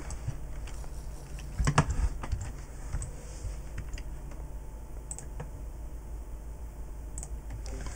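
A computer keyboard being typed on with scattered key clicks and a louder cluster of presses early on, faint and close against a steady low background hum.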